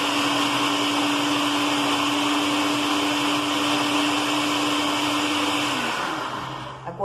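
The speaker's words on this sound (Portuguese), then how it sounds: "Vou bater de novo." A blender whirs loudly and steadily while mixing strawberry gelatin dessert, its motor pitch holding constant before winding down near the end.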